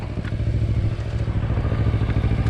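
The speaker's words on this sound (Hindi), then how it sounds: "This is called guarantee bike." A grunty bike engine near Pamban Island, Rameswaram, runs close by with a loud, rapid, steady thumping idle and light mechanical clatter, heard alone.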